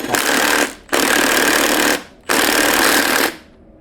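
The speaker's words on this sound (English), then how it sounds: "Take your impact gun with your 19mm socket, holding the back wheel and" Impact gun fitted with a 19mm socket tightening the rear wheel nut on a Royal Alloy GP350 scooter: three loud, sustained rattling bursts of about a second each, separated by short pauses.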